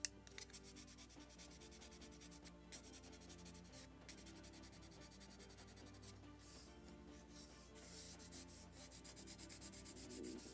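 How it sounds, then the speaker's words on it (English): Steady back-and-forth rubbing of 320-grit sandpaper over the wooden planks of a Model Shipways 1776 gunboat Philadelphia model, close and continuous, with a gentle rasping rhythm that grows slightly louder near the end. "320 sandpaper should be good."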